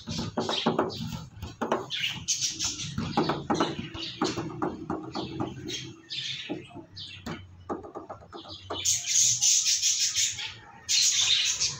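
Australian parrots chirp in bursts of sharp, shrill calls, with louder high squawks near the end, mixed with nearby voices and some low background rumble.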